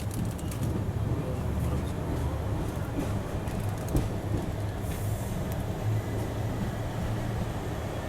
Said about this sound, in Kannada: ಹತ್ತಾಗಿಂದನೂ ಒಂದು ಟ್ರೈನ್ ಅರೈವ್ ಆಗೈತಿ